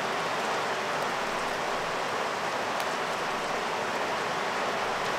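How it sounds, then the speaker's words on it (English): Heavy rain pours steadily onto a roof above a campsite where a Biolite camp stove is being lit, a dense, even hiss with no breaks and no voices. "How good is that rain on the roof?"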